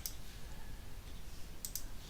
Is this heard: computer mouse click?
yes